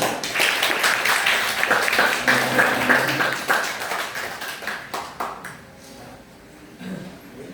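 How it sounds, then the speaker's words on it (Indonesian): An audience in an Indonesian teacher-training classroom claps together, a dense burst of applause that fades over several seconds into quieter room sound. "Aplaus bersama-sama"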